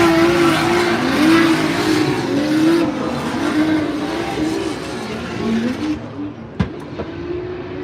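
A Nissan S13 drift car runs at a Formula Drift event in Utah, its engine droning and wavering loudly at a distance before fading, with a sharp knock near the end.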